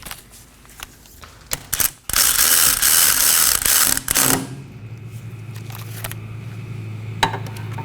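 A ratchet snugs down the caliper bracket bolts on a 2015-2023 Nissan Maxima rear brake, a few clicks then a loud, fast continuous ratcheting run of about two seconds, close and without talk.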